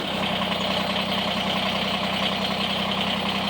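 A Kubota BX23S compact tractor's diesel engine runs steadily just after starting, a loud, close, even idle with a low throbbing rumble that holds unbroken throughout.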